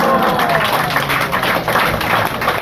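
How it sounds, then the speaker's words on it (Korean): A church congregation welcomes the pastor to a Korean afternoon prayer service with dense, steady applause, loud and continuous throughout. "큰 박수로 맞이하시겠습니다"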